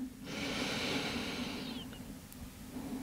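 One long, audible breath during a yoga shoulder and core exercise, a breathy hiss that rises, holds for about a second and a half, then fades over a low steady hum.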